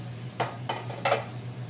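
A besan (gram flour) chila being flipped in a pan, cooked without oil or ghee: three short scraping clatters of a spatula against the pan, fairly close, over a steady low hum with no talk.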